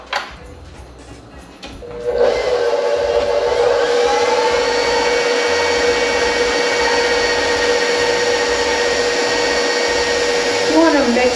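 An electric hand mixer starts after a short quiet stretch and then whirs steadily at a low speed setting through sweet roll dough of egg and flour for Hawaiian-style rolls. The hum is close, constant and fairly loud, with a brief scrape near the end.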